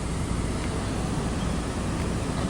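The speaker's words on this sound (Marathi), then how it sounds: "पाण्याचा आवाज" The Indrayani River rushes past, filling the air with a constant, broad roar, close and loud without a break.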